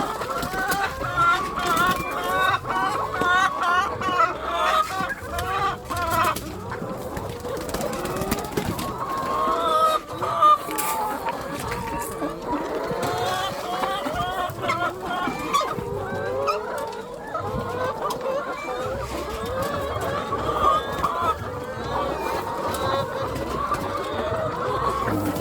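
Hungry laying hens cluck and squawk in a dense, continuous chorus at feeding time, with occasional louder calls rising above the flock, close and loud throughout.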